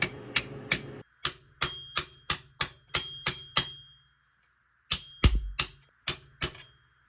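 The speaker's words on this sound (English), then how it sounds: "We got a 24mm here that I'm going to use to hammer this into place." Seal tapped into place with a hammer against a 24mm socket during a transmission solenoid repair, sharp metallic blows in quick regular runs with a short pause between groups, close and clear.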